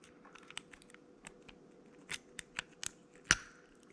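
Small dry clicks and light metallic ticks from picking a Brinks R70 discus padlock, a sparse scatter of faint taps building to a few sharper clicks and one louder snap near the end, close up with no talk.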